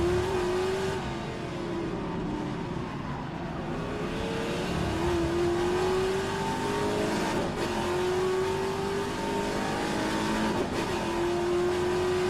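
Classic Trans-Am race cars lapping the Adelaide circuit, a steady loud engine drone from the onboard car with rising and falling pitch through gear changes, other cars close around it.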